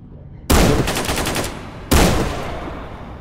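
Two loud gunshots from the video game S.T.A.L.K.E.R., a Kalashnikov-style rifle, each a sharp close blast with a ringing decaying tail, about a second and a half apart.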